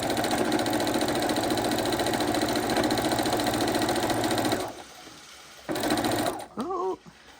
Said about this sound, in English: sitting here at the sewing machine, and we're just going to sew across these